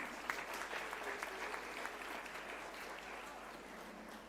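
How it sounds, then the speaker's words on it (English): An audience applauds student leaders at a National Pharmacy Week celebration at a college of pharmacy, with steady, dense clapping that sounds distant and fairly faint throughout. "May I expect a big round of applause to the student leaders,"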